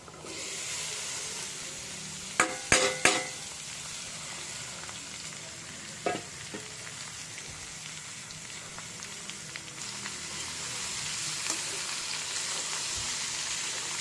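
Ivy gourd pieces frying in a pan with ginger garlic paste give a steady, close sizzling hiss, with a few sharp clattering knocks early on and a quieter knock later.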